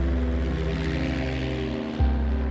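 Small airplane flying past an airport, heard from inside as a steady, loud propeller engine drone with a deep hum that holds throughout, slight thump near the end, no talking.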